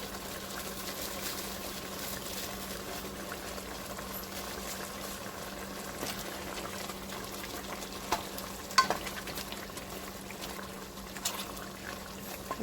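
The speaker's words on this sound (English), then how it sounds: "I'm going to turn the stove down and let this simmer also." Oxtails with thyme stems simmer in a pot on a stove, giving a faint, steady bubbling and soft sizzle with a few small clinks and pops toward the end.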